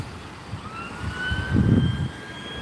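An ambulance, Fiat or Renault make, sounds its siren on a Gloucester street near the railway, a thin wailing tone rising in pitch at middle distance above low traffic rumble, with no talking.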